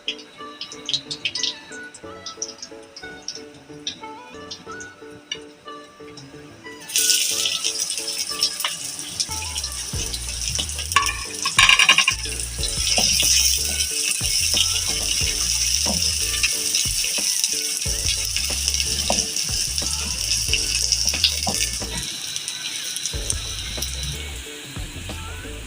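Onions dropped into hot oil with whole white cumin and curry leaves burst into a loud, steady frying sizzle that holds for many seconds, with scattered clatters and stirring rattles over it.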